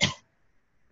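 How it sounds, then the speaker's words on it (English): A single short, close cough at the start, then near silence with a faint tick at the end. "I've had this terrible cough every night."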